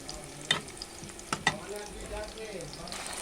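Chopped onion sizzles softly in a pan for a bottle gourd and rohu fish curry. A few sharp spoon knocks against the pan stand out above the low frying hiss, with faint voice sounds in the background.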